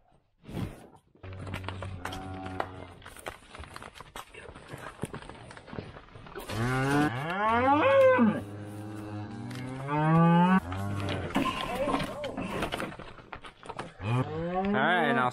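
Cattle and heifers bellow and moo repeatedly near the mic while being herded with calves, loud drawn-out calls overlapping, with some hoof movement and brief voices in between.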